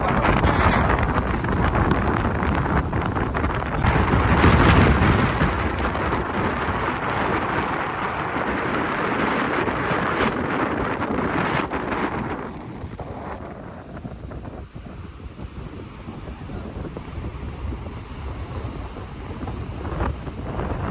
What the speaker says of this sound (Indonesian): Ini angin paling kencang kayaknya selama kita main-main ke Jaws